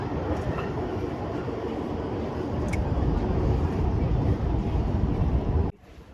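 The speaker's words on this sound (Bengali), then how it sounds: "আমাদের এই দুর্গাপুর থেকে কলকাতা ট্রেন জার্নি প্রায় সমাপ্ত হয়ে এলো।" Steady loud rumble and rattle from a moving passenger train on the Durgapur to Kolkata journey, heard from inside the carriage, cutting off abruptly near the end.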